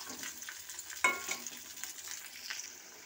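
Cabbage pakoras crackle and sizzle in hot oil, with a steady bright fizz and a sharper splash or stir near the first second, no voices.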